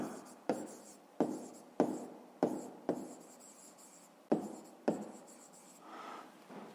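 Pen strokes on notebook paper while working a grade 5 maths exercise, a series of sharp scratchy taps and short rubbing strokes in an irregular rhythm, close and moderately quiet, with no voices.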